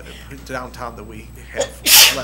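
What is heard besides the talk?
sneeze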